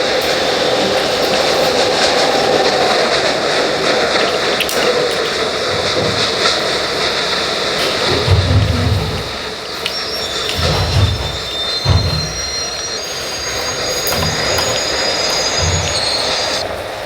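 A train rolls past nearby, a steady roar with rumbling wheel thumps and a long high metallic squeal from the wheels, lasting throughout with no talk.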